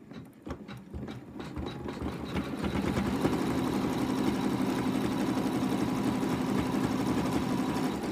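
An in-the-hoop embroidery machine starts with a few separate thumps, then settles into a steady, fast mechanical stitching whir. It keeps up a close, even hum while it sews the next colour on a lamb design.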